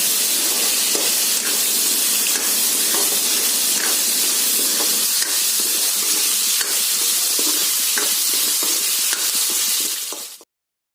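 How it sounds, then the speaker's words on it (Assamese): Potato pieces stir-fried in oil in a pan for a mushroom curry give a loud, steady sizzle with scraping stirs throughout, cutting off abruptly near the end. "তাক ভালদৰে লৰাই ভাজি ল'ব লাগিব"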